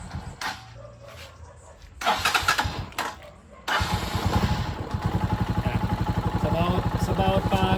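Motorcycle engine starts after a couple of short cranking bursts, then settles into a steady, close idle with an even rapid pulse, with brief talk near the start.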